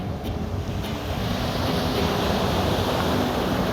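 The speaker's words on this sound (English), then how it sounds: "I can feel the wind getting a bit stronger" Steady rush of wind and breaking waves around a small sailing craft on open water, loud and continuous with buffeting wind noise on the microphone throughout.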